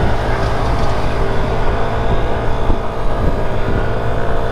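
Small Tao Tao 50cc scooter engine droning steadily while riding slowly, a continuous low buzz mixed with rushing wind noise, close and fairly loud throughout.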